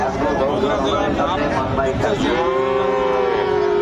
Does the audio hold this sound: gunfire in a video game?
no